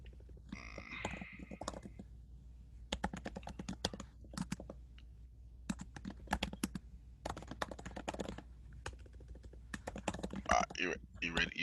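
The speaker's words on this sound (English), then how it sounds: "You typing a lot." Typing on a computer keyboard in bursts of rapid key clicks separated by pauses, fairly close and crisp, with people talking in between.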